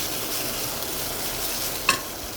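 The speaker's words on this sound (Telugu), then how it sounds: "ఆల్మోస్ట్ అయిపోతుంది ఒక వేగి వేగనివ్వాలి ఇది" Bitter gourd curry frying in a pan, a steady close sizzle with one sharp clink of the spoon near the end, no voices.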